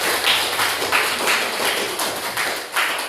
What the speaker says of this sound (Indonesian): Mari kita berikan tepuk tangan buat.